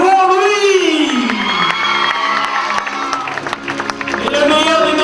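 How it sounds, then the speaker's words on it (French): Crowd at an aquatic show cheering, whooping and clapping, with children shouting in the mix while an announcer talks over the noise on a PA. "Allez, on applaudit très fort"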